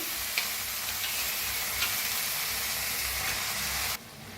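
Soft, steady sizzling of soaked chana dal frying in hot oil tempering for a ridge gourd dish, with faint scraping as it's stirred; the hiss cuts off abruptly near the end.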